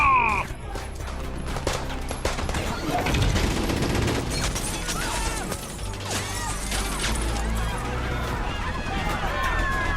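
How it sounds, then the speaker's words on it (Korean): Automatic gunfire from a chaotic armed standoff in a city street scene of an animated superhero film, heard as rapid bursts and mechanical clatter under loud shouting voices. "모두 사격 중지!"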